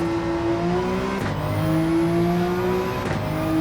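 A race car engine revving high in a usable first gear in the video game Gran Turismo, a loud steady whine with rising pitch, broken by two brief gear-shift dips, no talking over it.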